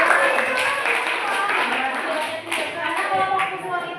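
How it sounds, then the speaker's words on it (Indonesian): A classroom group claps hands in a dense, steady patter through the whole stretch, with voices talking underneath the clapping. "Oke, beri tepuk tangan dulu."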